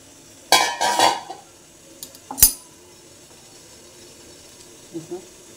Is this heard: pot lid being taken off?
yes